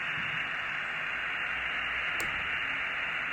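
Steady loud hiss of static from a PRC-320 military radio being tuned, a constant band of noise with a brief click near the end.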